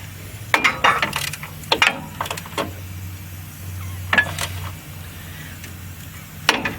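An old Craftsman breaker bar and socket work a stubborn lower shock bolt nut on a 2005 Dodge Ram 2500 4x4, giving sharp metallic clicks and ratcheting snaps in irregular bursts over a steady low hum.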